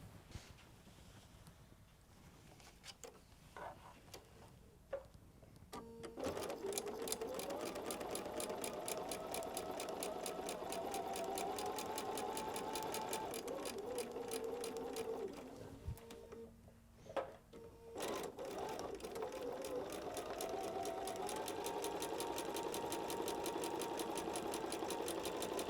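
A sewing machine whirs through two long stitching runs piecing a patchwork quilt block, separated by a short pause, a steady fast mechanical hum with quieter clicks before and between.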